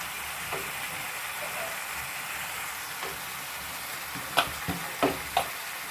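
Minced chicken for kothukari gravy sizzles in a pan, a steady low frying hiss broken by a few sharp metallic clacks of a spoon stirring near the end, close and moderately loud.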